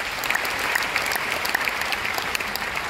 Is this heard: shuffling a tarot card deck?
no